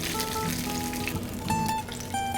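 Spam dumplings pan-frying in oil give a continuous crackling sizzle, dense and steady at close range, with faint tonal clinks and ringing kitchen tones on top.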